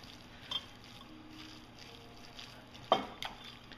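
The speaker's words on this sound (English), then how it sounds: "And then the next thing you do is just stir it up." Kalua pig meat is stirred in a pan, giving faint, soft scraping and a few quiet sizzling clicks, with one sharper knock of the utensil near the end.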